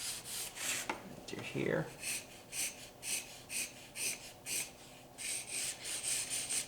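Pencil hatching lines on drawing paper, a rhythmic series of short scratchy strokes repeating roughly every half second, close and fairly quiet, with a brief spoken word early on.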